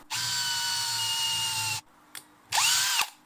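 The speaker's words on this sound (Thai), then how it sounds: "เดี๋ยวเรามาลองเจาะเลยนะครับ" An IMAX brushless 20V cordless drill in second gear whines loudly as it bores into hardwood, stops briefly, gives a short blip, then drills again in a second shorter burst.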